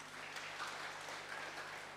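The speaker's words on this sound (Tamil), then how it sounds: "ஒரு பலத்தை கைத்தட்டல் கொடுங்க" An audience at a Tamil spiritual talk gives a short, brisk round of applause, a soft, even patter of many hands clapping together with a faint steady hum beneath it.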